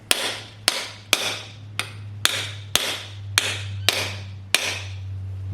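Nine sharp metallic hammer blows drive a core plug into an engine block, spaced roughly half a second apart, close and ringing over a low steady hum.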